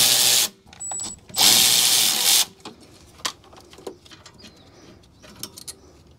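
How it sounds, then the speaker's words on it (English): A power tool loosens the 14 mm rear brake caliper slide pin bolts on a Toyota RAV4. There are two loud, close bursts of whirring, followed by quieter clicks and taps as parts are handled in a garage. "now we can loosen and remove these two caliper slide pin bolts"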